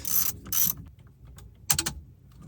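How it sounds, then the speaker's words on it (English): A ratchet tightens bolts during a Toyota Prius Apple CarPlay install, with short close clicking bursts separated by quiet gaps. "Let me get 2 of these bolts in to hold it."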